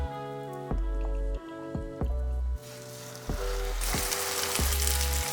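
Lamb sears in a hot pan with a steady, bright sizzle, interrupted by a few sharp clunks from the pan or utensils, all fairly quiet and close.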